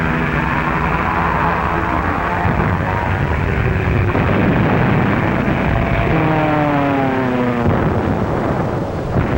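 Loud, continuous roar of WWII-era dive bomber aircraft engines, with droning propeller tones and rising and falling whines sweeping through, unbroken and close for the whole stretch.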